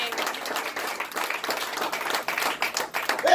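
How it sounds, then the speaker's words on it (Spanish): A church congregation applauding hard during a sermon, dense sustained clapping from many hands that swells and dips throughout, with voices mixed into the crowd noise. "apláudele con todas sus fuerzas"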